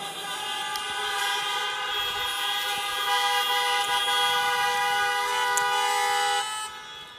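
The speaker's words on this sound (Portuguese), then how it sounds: "Dá uma buzinada aí." A horn blares continuously, a steady sustained honk that stays loud throughout before cutting off near the end.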